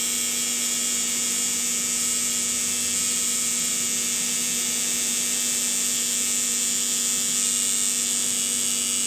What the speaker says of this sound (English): You can hear I don't have the machine running super fast.